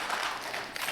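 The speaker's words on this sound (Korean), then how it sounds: "우리 박수 한번 해주시기 바랍니다." A church congregation applauds together during an early-morning worship service, a steady wash of many hands clapping at moderate volume for under a second.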